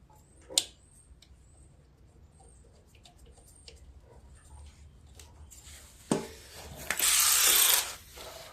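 Small bolts on the carburetor of a Viper Earthquake walk-behind weed eater are tightened by hand, giving sparse close ratchet clicks and light metallic taps, then a louder burst of ratcheting and rustling near the end.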